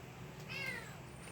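A cat meows once, a thin rising and falling cry heard faintly against a steady background hiss, with no talking.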